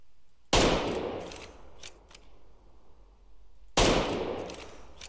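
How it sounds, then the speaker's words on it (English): Two sharp gunshots ring out in a video game, spaced a few seconds apart, each a loud crack followed by a long reverberant decay, with faint clicks between them. "Oh yeah, he's shooting."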